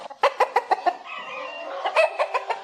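A sleepy hen grabbed from a dark shelf clucks loudly in quick bursts, with a stretch of wing flapping between the clucks, close and clear.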